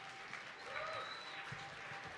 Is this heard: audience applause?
yes